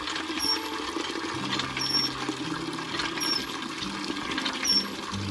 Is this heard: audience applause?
no